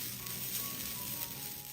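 Grated coconut roasting in a pan over a medium flame, giving a steady, even sizzle with a faint hiss throughout and no speech.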